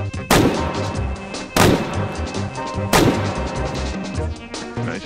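An S&W 500 revolver fitted with a muzzle brake fires in the VR game H3VR: three loud, booming shots about a second apart, each ringing out into a long reverberant tail, then a fainter fourth report.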